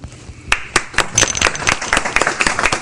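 Scattered hand claps from a small group in a meeting room form a brief, uneven patter of distinct, close claps over about three seconds.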